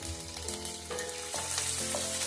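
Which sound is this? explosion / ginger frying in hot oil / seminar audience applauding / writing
ginger frying in hot oil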